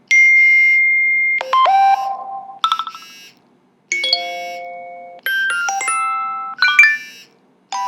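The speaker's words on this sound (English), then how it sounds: "So if you listen, that's a text message tone." The iOS 7 text message alert: a bright electronic chime in several short, rising and falling melodic phrases with brief gaps between them, loud and clear and playing alone.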